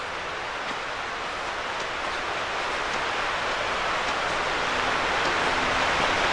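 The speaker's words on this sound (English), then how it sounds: "I think it's just a set of rapids down there in the stream" Water rushes in a steady, broad roar, like rapids churning in a stream, unbroken and fairly loud throughout.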